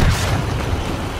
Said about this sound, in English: I want to use this bomb I got on here. It really messes people up.